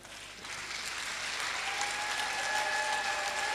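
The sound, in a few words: audience applause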